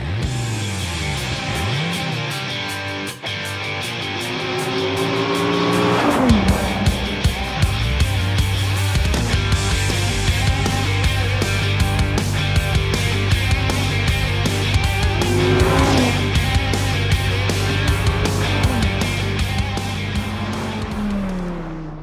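A 2016 Dodge Viper ACR sports car drives fast, its engine note sweeping up and down through gear changes, with loud revving passes and brief tire squeal, steady and close throughout.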